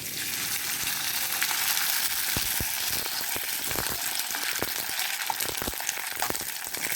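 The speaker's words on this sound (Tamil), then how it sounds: "ஜவ்வரிசி வத்தல் போட்டோம் இல்லையா, அதை பொரித்து பார்க்கலாம்" Dried sabudana (sago) crisps fry in hot oil, a steady bright sizzle with scattered crackling pops throughout, close and continuous with no talking.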